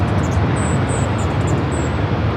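Airliner rolling down runway 24 Left at LAX on its takeoff run: a steady, loud broadband engine roar filling the whole span, with no talk over it.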